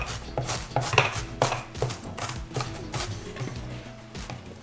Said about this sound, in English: not crying when you cut fresh onions